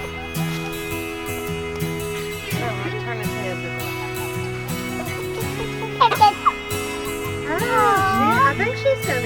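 Chickens cluck and murmur close by at a backyard flock, with scattered short calls and a small jingle, while people talk over them.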